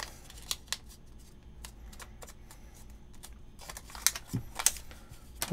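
A US dollar bill is creased and folded into an origami airplane: crisp paper crinkles and sharp snapping folds come in scattered bursts, close up and fairly quiet, with a few louder crackles.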